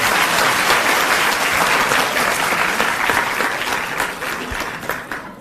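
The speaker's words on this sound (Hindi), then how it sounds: "एक बार जोरदार तालियों से आइए स्वागत करें सर" A large crowd at a school inauguration in Delhi gives loud, sustained applause welcoming the chief minister, a dense roar of clapping that stays strong, then gradually thins and tapers off.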